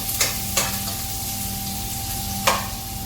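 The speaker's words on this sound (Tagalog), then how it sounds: "isunod na natin yung sibuyas. Ayan, halo-haluin lang natin" Onions fry in a hot pan for pinakbet, a continuous close sizzle broken by three sharp scraping strokes of a spoon as they are stirred.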